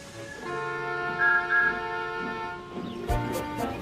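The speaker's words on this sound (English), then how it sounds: "Then the guard's whistle blew and Thomas puffed away." A long, steady whistle tone holds for about two seconds, then fades into a soft thump and some lighter rustling.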